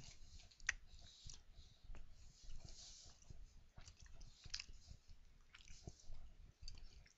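Someone chews a big hunk of Oberto spicy sweet beef jerky, close wet squishy bites and tough, repeated mastication with small clicks, alone and fairly quiet.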